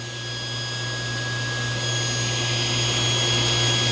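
Power saw squaring off the end of an MDF board, a loud close steady whine with a strong motor hum, running continuously and building slightly in intensity, no talking.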